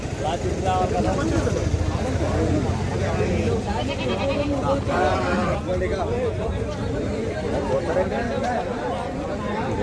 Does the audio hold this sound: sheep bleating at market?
yes